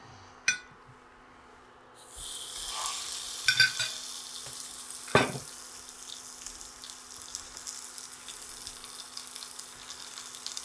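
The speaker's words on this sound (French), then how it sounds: "un petit peu d'huile dans le fond. Comme ça. Et je viens déposer mon morceau de saumon." A piece of salmon is laid into oil in a pan, with a click followed by a rising, steady sizzle, close and moderately loud, with a few small knocks and no talking.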